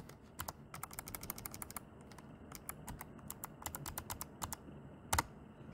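Keys click quickly in short bursts as a command is typed on a computer keyboard, close and quiet, ending with one louder keystroke.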